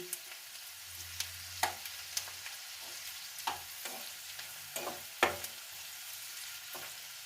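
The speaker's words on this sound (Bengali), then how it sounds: "এবার এটা মিশিয়ে নিচ্ছি একসাথে পেঁয়াজ রসুনটা এটাতে একটু তেল বেশি লাগে" Chopped onion and garlic frying in plenty of oil, a soft, quiet sizzle with scattered sharp clicks and scrapes of a spatula stirring every second or so.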